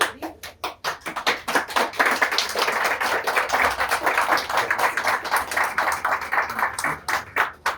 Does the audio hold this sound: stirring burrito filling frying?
no